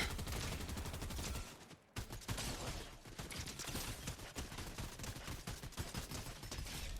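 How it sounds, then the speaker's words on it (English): Continuous, dense gunfire fills a match of the video game Fortnite Zero Build, with rapid overlapping shots and a brief break near the two-second mark before the shooting resumes, loud and sustained. "I'm getting shot at."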